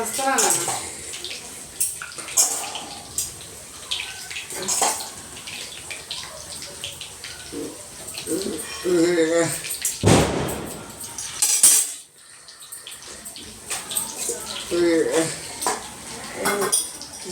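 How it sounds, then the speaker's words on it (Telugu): Dishes and cooking vessels being washed by hand, with running water, clinking and scraping of metal pots and utensils in irregular bursts, a louder gush of water near the middle, and someone talking intermittently. "కడిగేద్దాం ఈ గిన్నెలు కడిగేదే నాకు ఎక్కువ పని అయిపోతుందండి"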